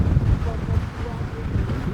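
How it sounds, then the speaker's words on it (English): Gusty wind buffets a microphone outdoors on a Chicago street, a continuous low rumble that swells and dips throughout, with no clear speech breaking through. "The wind getting the best of us right now."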